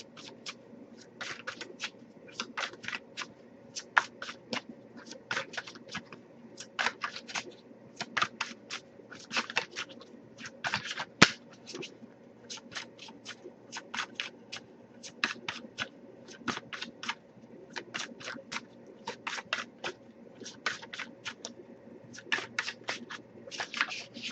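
Soft, crisp riffling of oracle cards comes in repeated short bursts, close and quiet, with brief pauses between each shuffle.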